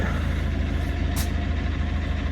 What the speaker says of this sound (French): Il y a le voisin qui a démarré son camion.